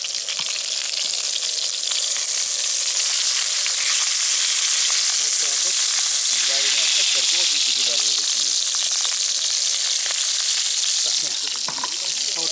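Food fries in a pan during a fishing trip, a loud, continuous close sizzle with bubbling and occasional stirring, while voices murmur faintly underneath.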